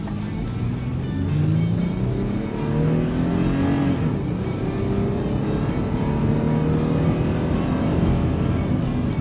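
Toyota 4Runner fitted with a Magnaflow Overland exhaust pulls onto a highway at full throttle, the engine and exhaust droning loudly and rising steadily in pitch, heard from inside the cabin without talk.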